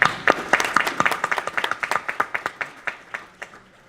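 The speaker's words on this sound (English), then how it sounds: "I think that deserves a round of applause." A small audience at an intergenerational program closing ceremony gives a round of applause, made of distinct, evenly spaced hand claps that gradually thin out and fade.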